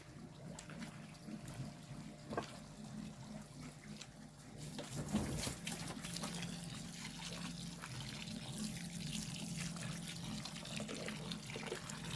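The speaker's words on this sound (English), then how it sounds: "Okay, now I'm just going to put some water in there." Water poured from a can or jug into compost in a pot holding a chilli pepper plant, a steady trickling pour running throughout, close by and moderately loud with no talking.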